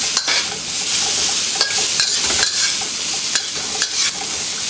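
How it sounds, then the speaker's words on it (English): Vegetables stir-fried in sesame oil in a wok, a loud continuous sizzle broken by repeated scraping strokes of a spatula against the metal, close and steady with no talking. "And then continue to stir fry the veggies."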